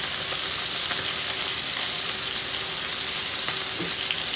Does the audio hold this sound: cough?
no